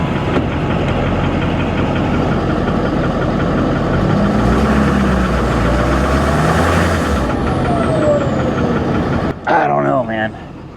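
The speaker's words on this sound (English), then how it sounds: "There may be a little tap to that engine, guys." A 1980s Ford F150 XLT pickup engine idles steadily up close with a light tapping in its rhythm, a low continuous rumble before an abrupt change near the end.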